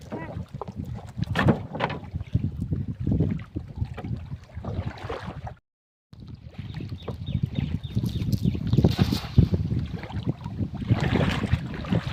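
A small fishing boat moves on river water with sloshing and wind buffeting the microphone, people talking nearby throughout.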